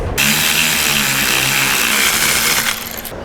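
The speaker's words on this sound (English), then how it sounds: "we'll then go ahead and tighten them down." A power tool tightening recessed bolts on an air helper spring bracket of a 2015 Chevrolet, a loud continuous buzzing, rattling whir up close that runs for nearly three seconds before tapering off.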